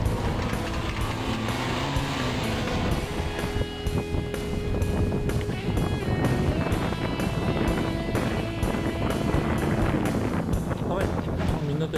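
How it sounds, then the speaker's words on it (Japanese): Cold wind blows steadily through a city-centre street in Iwaki, a broad rushing noise buffeting the microphone for the whole stretch, with some faint voices mixed in. "風が吹いててとても寒い。"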